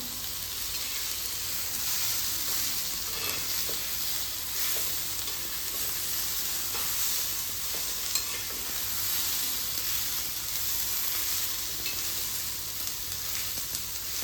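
Vegetable roll filling frying in a pan at home, a steady bright sizzle running continuously with faint scrapes of stirring, close and even with no talk.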